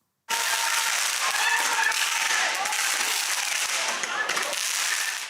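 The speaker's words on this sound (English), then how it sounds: "a group of people were launching fireworks across and into the street" Dense, continuous crackling and popping of fireworks launched across and into a street in Toronto, going off in rapid succession, loud and close, with a faint voice or crowd noise mixed in.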